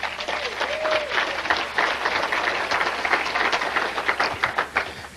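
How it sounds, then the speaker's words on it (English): Sustained audience applause in a lecture hall as a speaker is brought on at a talk about the 1918 swine flu, a continuous wash of many hands clapping with faint voices beneath. "Larry Harris, bring him on with some more applause, please."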